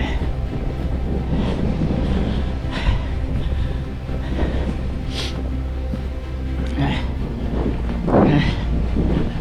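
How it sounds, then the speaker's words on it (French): Gusty wind in a snowstorm roars and buffets the microphone on a cold winter snowshoe hike, a continuous rough blast with brief surges throughout. "Il neige, il vente."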